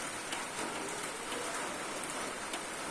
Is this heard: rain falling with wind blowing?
yes